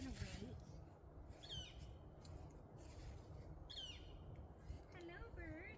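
A bird calls several times in a garden, with repeated short chirping squawks at moderate distance over a steady outdoor background hiss.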